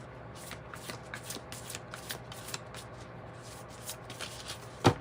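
Tarot cards being shuffled by hand: a steady run of soft riffling and flicking, close and fairly quiet, with a slightly sharper tap near the end and no talk.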